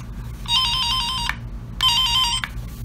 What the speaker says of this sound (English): First I got a tone on.